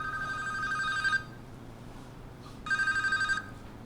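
A telephone rings twice in a quiet interview room, each burst of trilling bell tones lasting about a second with a pause between them.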